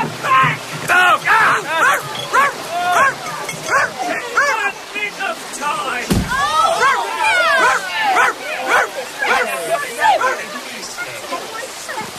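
Dogs bark and yip excitedly in a dramatized audiobook scene at a river lock, with several voices shouting over the repeated barks throughout.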